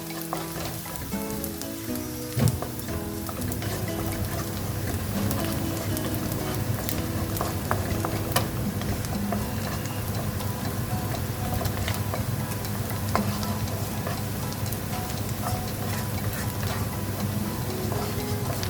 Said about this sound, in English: I don't want the onion to be crisp, so stir it continuously.